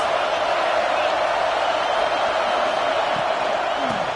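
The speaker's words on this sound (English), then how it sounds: "This crowd trying to make life miserable for this offense." Football stadium crowd at a Michigan at USC game gives off a loud, dense, steady roar, a sustained wash of massed voices that never lets up.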